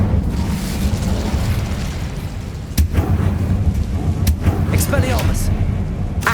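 Incendio fire spell blasts in the Hogwarts Legacy video game: a low, rumbling roar with sharp bursts near the middle and later in the clip, mixed with other game sounds and possible voices.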